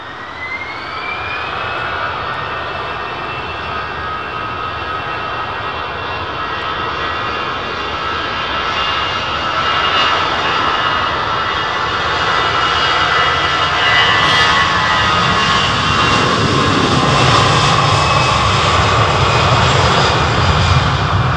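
A heavy jet airliner takes off from a runway at London Heathrow Airport, its engines roaring loud and steady, the rumbling thrust building and deepening as it powers past.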